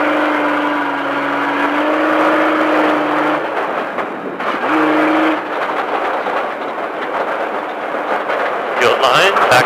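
A Speed Vegas off-road stadium truck engine revs and pulls hard, its droning note holding, dipping briefly and climbing again through a loud, steady run, with a voice talking over it.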